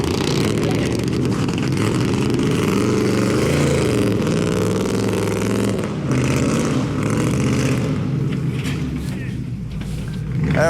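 A V8 Ford F150 on 40-inch tires revs steadily and loud while pulling a 1978 Power Wagon out of mud, the engine droning continuously with slight dips and voices faintly mixed in.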